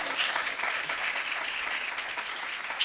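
Applause from a church congregation during a Hindi-language worship service, a steady wash of many hands clapping at even loudness throughout, with no voices rising above it.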